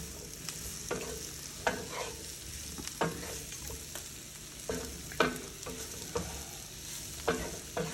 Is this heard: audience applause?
no